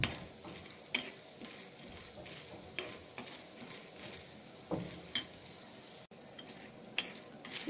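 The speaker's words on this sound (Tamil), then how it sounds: "எண்ணெயில் நல்லா கடலைப்பருப்பை நல்லா கோல்டன் ப்ரௌன் வர மாதிரி நல்லா" Chana dal frying in hot oil for chutney, giving a steady crackling sizzle broken by intermittent clicks and scrapes of stirring against the pan, close and fairly quiet throughout.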